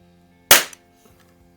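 A single sharp shot from an early Crosman 760 air rifle firing a pellet, a loud close crack with a short decaying tail, followed by quiet with faint small knocks.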